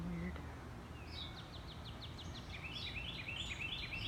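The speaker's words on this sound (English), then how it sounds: "Those birds." Birds call repeatedly among trees, a quick series of rising chirps followed by a run of warbling notes repeated over and over, moderately close against a soft background hiss.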